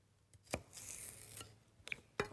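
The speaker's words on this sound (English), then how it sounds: "Just chopping up some celery" A knife chops celery on a board in a home kitchen, a few crisp close cuts spaced irregularly, with a soft scraping sweep between them, quiet and without talk.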